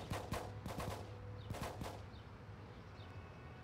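Rapid bursts of gunfire from the Full Spectrum Warrior video game, several sharp shots clustered in quick volleys over a steady low hum, with fainter scattered shots later.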